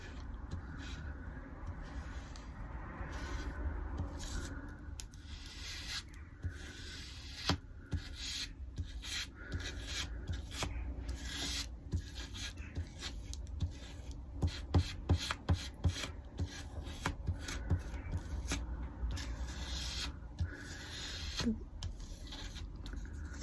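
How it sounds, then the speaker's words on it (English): Ink is rubbed off a drypoint etching plate by hand: a continuous, fairly quiet scrubbing and rasping that goes on without pause, with small irregular scratchy bursts as the rubbing strokes change. "then we rub the ink off and leave as much ink as we want depending on what the end result is that we're after"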